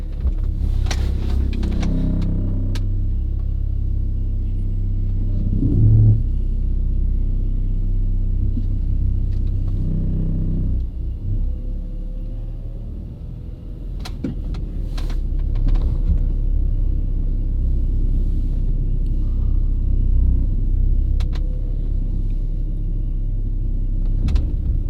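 A BMW E46 car driving, heard from inside the cabin as a loud steady low engine and road rumble that dips briefly and rises again, with faint clicks and knocks and no speech.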